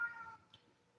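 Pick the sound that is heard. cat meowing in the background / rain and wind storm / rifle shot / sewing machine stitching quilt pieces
cat meowing in the background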